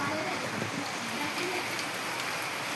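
Heavy monsoon rain pours down in a dense, continuous hiss, steady and loud throughout with a faint voice underneath.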